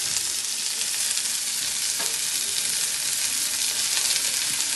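Three finely chopped shallots fry in hot coconut oil, giving a steady, dense sizzle that holds evenly throughout with no talking.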